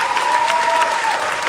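A crowd applauds at a live event, steady dense clapping heard briefly and loudly on its own.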